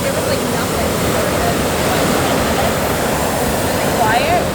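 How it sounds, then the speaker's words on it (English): Big ocean swells break on a Southern California beach in a continuous, loud roar of surf with no pause between waves. "Wow, those are some big waves."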